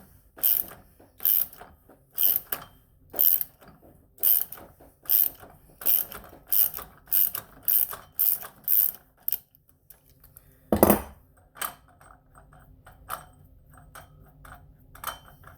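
A socket wrench loosens the nut on a weed trimmer blade, giving a run of about a dozen loud, close ratchet clicks in an even rhythm, then a sharp metallic clunk and a few scattered lighter taps.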